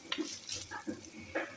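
Onion and garlic frying and being stirred in a pan with ground meat for a spinach spaghetti sauce: soft sizzling under a few brief scraping stir strokes, close and fairly quiet, no talking.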